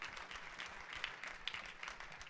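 A church congregation claps for the King of Glory during a sermon, a steady, dense patter of many hands, fairly faint and diffuse across the hall, with no clear voices on top.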